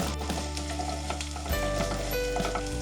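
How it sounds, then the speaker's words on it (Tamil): Ginger, green chilli and curry leaves fry in hot oil as a tempering for Gujarati kadhi, giving a steady close sizzle with faint crackles over a low hum, with no talk. "இப்போ இஞ்சி, பச்சை மிளகாய், கருவேப்பிலை எல்லாம் நல்லா பொரிஞ்சிடுச்சு."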